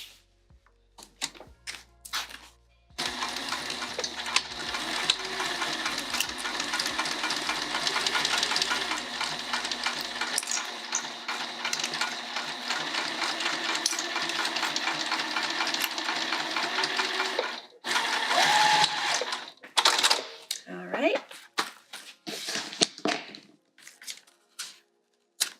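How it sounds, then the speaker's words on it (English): A sewing machine stitches down the binding on a bag, running in one long, steady, fast whir for about fifteen seconds, with shorter bursts of stitching and handling sounds before and after. "I'm gonna sew this down"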